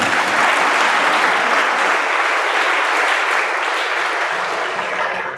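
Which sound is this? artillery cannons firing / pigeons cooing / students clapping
students clapping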